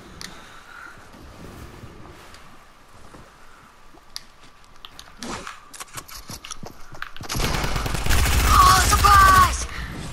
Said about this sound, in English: I'm gonna kill him with my drum gun.